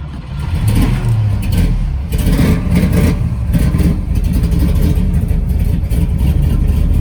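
A 1968 Chevrolet Camaro with a 427 V8 runs loud and close, its deep rumbling idle swelling into repeated revs with no one speaking.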